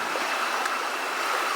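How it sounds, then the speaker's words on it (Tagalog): Water of a clear forest brook flowing steadily over stones, a constant near rushing hiss with no pauses and no voices. "Napakagandang sapa"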